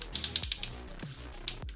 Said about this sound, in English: But he can go up to there again on good strong ratchets.